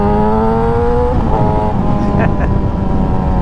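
Yamaha YZF-R6 motorcycle engine at full throttle in third gear, a loud steady high-revving drone with rising harmonics, heard up close and continuous throughout.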